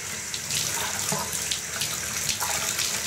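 Steady running tap water rinsing soap off a guinea pig, a continuous close splashing stream with faint uneven spatters and no talking.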